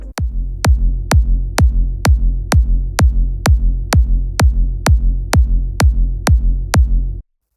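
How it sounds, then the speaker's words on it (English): A layered electronic drop kick drum built from five layers thumps fourteen times in a steady, fast four-on-the-floor pulse, each hit punchy with a deep booming tail, then stops abruptly. "this is what the drop kick sounds like from what we made from last episode"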